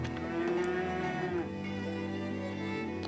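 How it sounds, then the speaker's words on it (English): Cattle moo in the farming game Farthest Frontier: one long, close, low bellow with a falling pitch, over soft ambient game music and no voices. "And the cows, where are my cows?"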